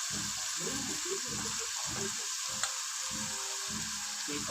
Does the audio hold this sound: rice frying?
yes